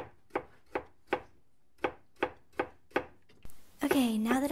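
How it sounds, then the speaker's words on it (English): Chopping on a cutting board, added as a sound effect: eight sharp, evenly spaced knife strikes, close and crisp, then a brief burst of other noise and a voice near the end. "I had to put these chopping effects on instead."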